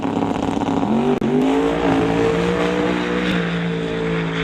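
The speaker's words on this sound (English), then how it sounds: "Nick driving through a little bit of tire shake, gets to the top end with a 424 with a 182 miles an hour for Nick Duda" Pro street drag race car with boosted engine making its pass at a drag strip, driving through tire shake: a loud, sustained high-revving roar with a brief break and rising pitch as it accelerates, no voices.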